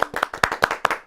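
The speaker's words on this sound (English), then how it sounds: "I feel like we should cheer Annie Carnathan because this is season 5." Podcast hosts in a studio clapping, a quick run of sharp, close hand claps at an uneven rhythm, about ten in one second, with no speech.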